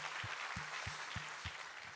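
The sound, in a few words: applause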